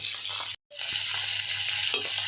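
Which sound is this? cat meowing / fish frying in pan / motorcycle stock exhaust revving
fish frying in pan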